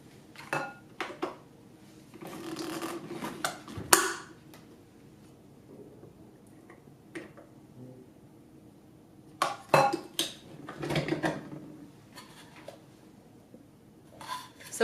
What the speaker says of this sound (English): The bowl is filling up,